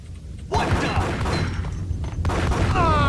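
Gunfire in the game Max Payne, loud sharp shot bursts with booming thuds and mechanical clatter in rapid succession, dense and close, with brief metallic ringing near the end.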